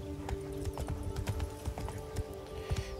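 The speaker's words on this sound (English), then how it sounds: "Whoa there, Roach." A horse's hooves clip-clop in The Witcher 3: Wild Hunt – Blood and Wine, an uneven trotting rhythm of fairly soft hoof strikes over a steady game background.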